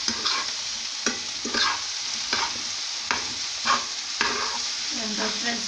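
Stuffed-eggplant filling with tomato fries in a pan, a loud close sizzle broken by regular scraping stirs roughly every second, with no one speaking.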